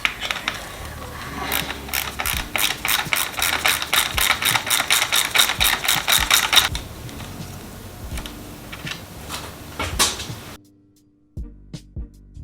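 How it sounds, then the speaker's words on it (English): A socket wrench ratchets rapidly off a bolt on a motorcycle's smog plate, a dense run of quick clicks for several seconds, then looser mechanical handling and a few faint clicks after a brief silence. "So I recommend getting a socket wrench so you can apply some torque to it without worrying about stripping anything out."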